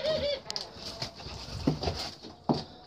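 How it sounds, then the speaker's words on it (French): A young female Barbary dove of wild brown colouring makes a soft brief call at the start, followed by light pattering and scuffling movements close by, with a couple of low coo-like sounds. "c'est une femelle tourterelle rieuse"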